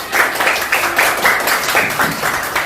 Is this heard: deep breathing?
no